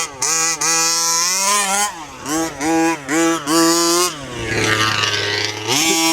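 A large two-stroke gas petrol RC truck engine running close by, buzzing loudly and revving up and down in repeated short bursts with a rough idle between.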